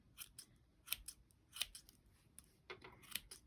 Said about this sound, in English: now we're going to trim our pom-pom